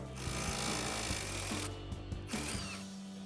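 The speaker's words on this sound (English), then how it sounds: "you can just use a 21mm or a 13/16mm wrench and a 10mm socket and separate the two that way" Ratchet wrench with a socket turning the sway bar link nut on a 2011-2023 Dodge Charger: quick bursts of metallic clicking in short runs, close and clear, broken by brief pauses.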